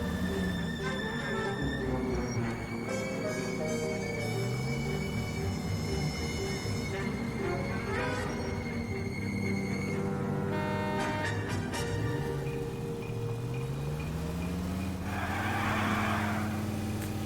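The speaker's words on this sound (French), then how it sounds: "Gros drift avec la voiture." A car drifts in the video game LA Noire, its engine droning steadily with rising and falling revs and tyre noise, while game sounds and music play alongside.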